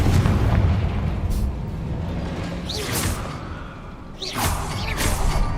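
A Confringo fire spell in the game Hogwarts Legacy blasts out as a heavy, booming explosion with a low rumbling tail, followed by bright whooshing bursts later on.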